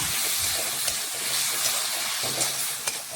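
Water poured into a hot pan of spice masala hisses and sizzles steadily, a broad bright crackle that stays loud and close throughout with a few sharper pops.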